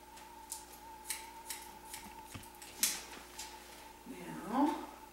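Scissors snipping through shoulder-length hair, a series of crisp close snips spaced about half a second apart, with a quiet tonal hum in the background and a brief voice sound near the end.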